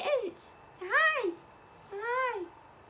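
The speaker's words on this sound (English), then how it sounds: "It's a little kitty." Small cat meowing in the Pixar animated film Soul, three high drawn-out meows spaced about a second apart, fairly close and alone.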